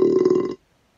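A cartoon pig's burp, Peppa Pig belching as played back by an Amazon Alexa smart speaker: one loud, rumbling, buzzy belch lasting about half a second, then cut off abruptly into silence.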